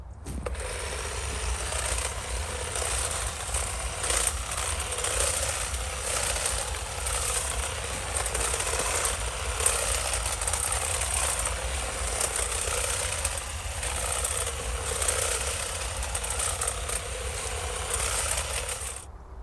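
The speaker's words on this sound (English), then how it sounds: "I'm going to go and get the hedge cutter now and trim this bit of hedge back" Petrol hedge cutter trimming back a section of garden hedge, a steady continuous motor drone with rattling vibration running unbroken for the whole stretch, fairly close and alone without talk.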